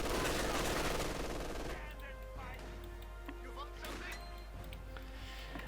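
Bursts of machine-gun fire from an MG42 in the World War II strategy game Company of Heroes 2, shooting through the front of a cafe, layered over dense battle noise while a commentator talks over it.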